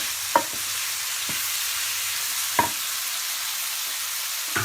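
Minced meat and tomatoes fry for tantuni in a pan, giving a steady close sizzle broken by three sharp knocks of a utensil against the pan.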